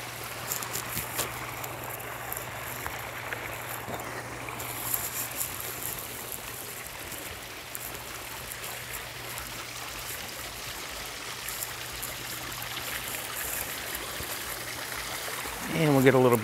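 A small garden pond waterfall trickles and babbles steadily at moderate volume, with a low hum underneath and a brief burst of noise at the very end.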